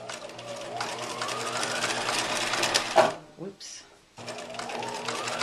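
A sewing machine runs a zigzag stitch along the trimmed seam allowance of a pyjama pant crotch seam, a steady close whir lasting about three seconds, pausing briefly, then resuming; a voice speaks briefly in the gap.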